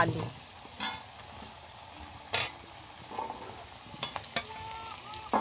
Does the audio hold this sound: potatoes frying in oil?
yes